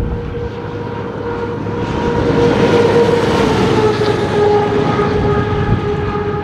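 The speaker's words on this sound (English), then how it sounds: "That's a vehicle that can actually ride on the tracks." A railroad vehicle rolls along the tracks with a steady, droning mechanical rumble that swells and holds, loud and continuous, with no talking.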